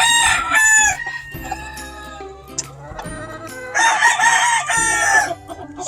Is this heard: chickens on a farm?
yes